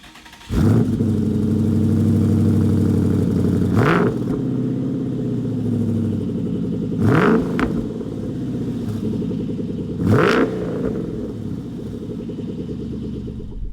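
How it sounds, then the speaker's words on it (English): A 2012 Ford Mustang Boss 302 V8 revving hard on a race track, loud and close, with a sustained roaring engine note broken by three sharp gear-change blips as it accelerates, no voices. "driving the Boss 302 Mustang"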